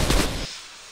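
Gunfire in a blocky Counter Strike-style shooter mode, a dense loud burst of shots packed into the first half second, then cutting off into a quiet tail.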